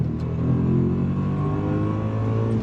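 A performance car engine, either a Ford Focus RS or an Audi RS4, pulls hard at full throttle off the line. A loud, close, steady roar climbs gradually in pitch over a few seconds, with no talking.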